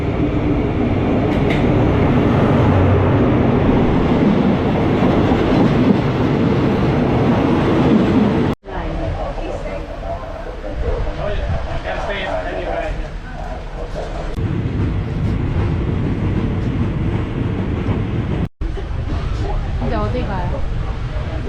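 A passenger train rumbles along the Death Railway past the River Kwai bridge at Kanchanaburi, Thailand, a loud steady roll of wheels and carriage noise with brief dropouts, and people talk over it.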